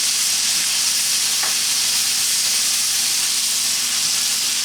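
Minced garlic frying in a pan with other ingredients for corned beef pasties, giving a steady, close hiss and sizzle that holds level throughout with no talking.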